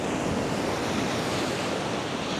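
Ocean waves breaking steadily on a shoreline, a continuous broad roar of surf with some wind noise, fairly close and without talk.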